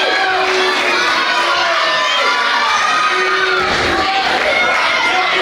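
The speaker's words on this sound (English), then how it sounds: "Wyatt seemingly distracted by this capacity crowd at the Camelot Ballroom" A capacity crowd at a wrestling show in a ballroom arena cheers and shouts continuously, with loud overlapping voices and whoops filling the hall, close and sustained throughout.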